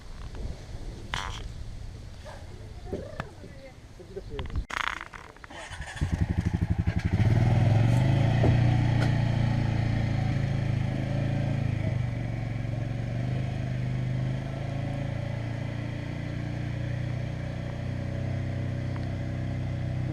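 A Honda Fourtrax 350 4x4 quad bike engine starts after some clattering handling, then settles into a loud, steady low rumbling idle up close, running continuously without talk.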